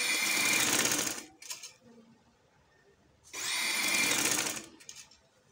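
A sewing machine runs in two short close bursts while stitching along a folded neckline edge of a garment, a quiet pause with slight handling noise falling between the runs.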